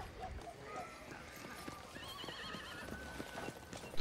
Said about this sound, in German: Führt eure Pferde doch hier drüben hin.